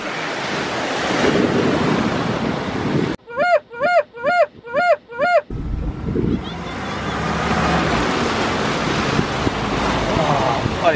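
Boat out on the water, with loud wind buffeting and waves rushing around the hull, broken in the middle by a short burst of rhythmic tonal chirps before the wind and water return.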